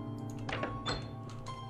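A door opens with a quiet, muffled thunk and creak inside the horror video game The Haunting Lot of 21. Short knocking impacts are heard faintly over low background ambience.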